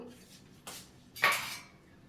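A lid goes onto a cooking pot in a home kitchen while pitha is being made, giving two short, close metallic clanks, with the second louder and ringing briefly.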